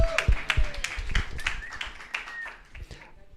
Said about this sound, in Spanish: Dele un aplauso a Alejita que está conectada en esta mañana